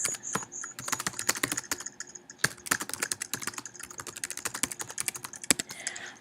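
Rapid, close keystrokes clatter on a computer keyboard while text is entered into a box for a QR code, with a continuous run of crisp clicks broken by a brief pause.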